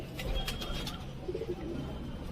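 Tailed pigeons at a breeder's home in Krishnanagar coo softly nearby, a few low murmuring coos in the middle, with faint chirps and light rustling around them.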